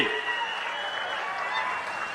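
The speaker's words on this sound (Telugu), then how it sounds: "గట్టిగా చప్పట్లు కొట్టి మీరందరూ కూడా అభినందించాల్సిన అవసరం ఉంది" Audience applause at a meeting of the Andhra Pradesh chief minister with water user associations, a dense steady patter of many hands clapping, moderately distant and sustained throughout.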